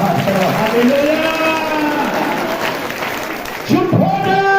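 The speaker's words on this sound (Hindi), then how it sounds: "ताली बजा के परमेश्वर का धन्यवाद करो" A church congregation at a Sunday service claps together in thanks to God, a dense, loud, sustained applause with voices calling out over it.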